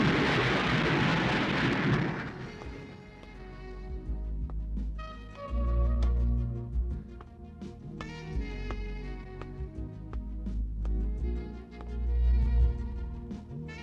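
A thunderstorm with rain on a stormy night: a loud crash of rain and thunder fills the first two seconds, then gives way to dramatic music with deep booming swells.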